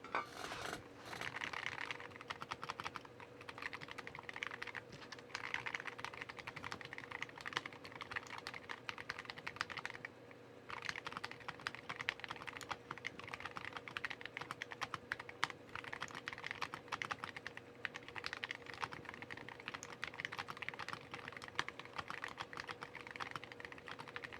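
Steady typing runs on a mechanical keyboard fitted with POM Holy Panda switches in a plastic case. The keystrokes are fast, continuous and soft, heard close and without speech.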